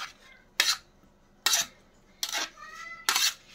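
Spoon scraping and clinking against a pot while macaroni is stirred with mustard oil, four short metallic bursts at regular intervals with quiet pauses between them.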